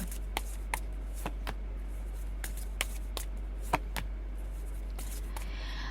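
Tarot cards are drawn and handled, giving sparse crisp snaps and flicks close up over a low steady hum, with no one speaking.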